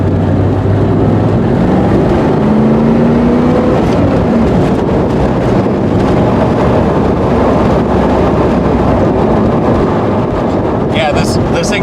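A car accelerates hard during a test pull with a newly fitted shifter, its engine roaring loud and steady as the pitch climbs through gears, heavy wind buffeting the microphone throughout.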